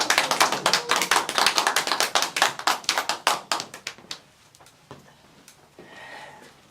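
A church congregation claps in a quick, loud, rhythmic run of individual handclaps that slows and fades after about four seconds, leaving quiet room tone and faint voices.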